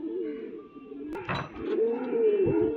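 A male pigeon coos nearby, low throaty rolling notes, with a brief rustle or flutter in the middle.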